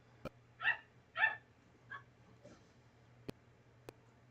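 A small puppy gives a few short, yappy barks close by, two stronger ones followed by softer yips, with quiet clicks and faint background hum in between.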